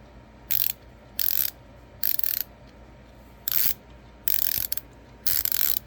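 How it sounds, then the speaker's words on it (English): Craftsman ratcheting screwdriver clicking through its ratchet in six short bursts of rapid fine clicks, each under a second, separated by brief pauses, close up and quiet with no talk. "Alright, let's check out the ratcheting."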